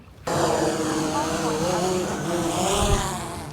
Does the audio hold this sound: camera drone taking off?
yes